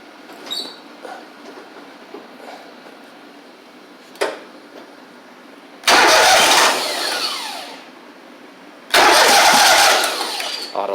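Gravely 260Z riding mower engine cranking, two loud bursts of turning over and catching, each lasting a couple of seconds, separated by quiet pauses with faint clicks.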